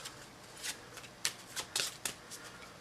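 Playing cards shuffled during a dungeon board game, a run of short crisp riffling bursts spaced irregularly, close and fairly quiet with no talk.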